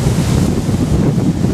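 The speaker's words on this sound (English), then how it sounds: "It is so windy. I never heard wind like this in my life." Powerful hurricane wind at night in Hawaii roars continuously into the microphone, a dense, buffeting rush with constant low rumble and no letup.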